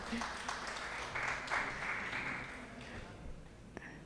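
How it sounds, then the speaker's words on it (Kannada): Audience applause at a stage event honoring a young music performer, a steady wash of clapping filling the room and slowly fading toward the end. "ತಮ್ಮೆಲ್ಲರ ಪ್ರೀತಿಯ ಚಪ್ಪಾಳೆ ಬರಲಿ ಅರ್ಚಿಷಾಗೆ."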